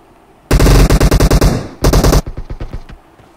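AKM rifle gunfire in a room-challenge duo match of a shooting video game: loud, close automatic bursts of rapid shots, a long burst, a short pause, then another burst trailing off into echoing single reports.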